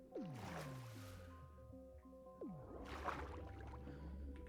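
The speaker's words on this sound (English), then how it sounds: "each time I go underwater with my trident, it makes this noise." A Minecraft trident underwater: two swooping, watery whooshes, each descending, with a lingering bubbling, tonal underwater ambience, faint and alone.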